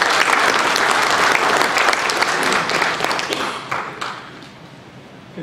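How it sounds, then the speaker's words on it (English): An audience at a military airlift wing gathering gives a hearty round of applause, dense clapping that stays full for several seconds, then thins and fades toward the end. "You all deserve a round of applause."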